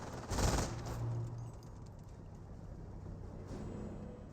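A .30 cal machine gun in Company of Heroes fires a short, fairly faint burst near the start, followed by a lower rumble of distant battle noise.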